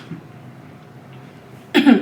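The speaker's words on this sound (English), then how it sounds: "I just coughed." One short, loud cough close to the microphone, coming at the very end after a near-silent stretch.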